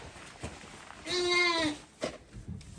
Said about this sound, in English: I've got my pet lamb I need to see, but it doesn't sound like it's full of life.